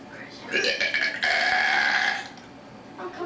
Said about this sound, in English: loud and juicy belch.